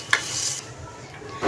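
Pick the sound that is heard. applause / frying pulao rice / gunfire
frying pulao rice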